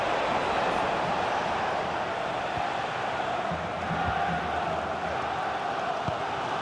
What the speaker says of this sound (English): The crowd have really got behind them today.